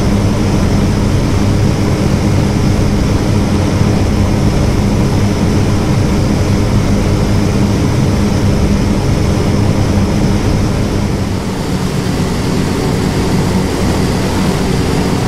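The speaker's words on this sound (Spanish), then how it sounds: "el Sea Fury 543 despega de la base de San Antonio" Hawker Sea Fury piston-engined propeller fighter taking off from San Antonio air base, a loud, steady, dense engine and propeller roar filling the whole stretch with no speech, easing slightly late on.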